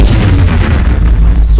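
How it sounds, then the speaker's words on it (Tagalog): A loud, sustained roaring blast fills the moment, a heavy rumbling burst like a big explosion of white fire that stays dense and continuous throughout, with a brief higher crackle near the end. "Sumabog ang puting apoy at napaatras sa hangin si Escanor."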